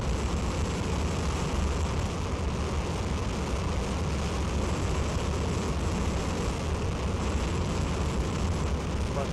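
The Ares I-X rocket launch roars as a dense, continuous broadband rumble. It is heavy and steady from start to finish, with no speech audible.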